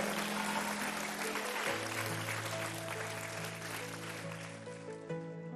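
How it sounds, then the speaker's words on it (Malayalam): Audience applause at Mount Carmel Church, Chathiath, during a televised quiz segment, steady clapping from a crowd mixed with a sustained organ-like musical tone, fairly distant and even throughout. "നല്ല കയ്യടി കൊടുത്തേ"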